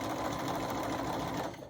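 A sewing machine quilting straight lines runs in one loud, close, continuous burst of rapid stitching and slows slightly at the very end.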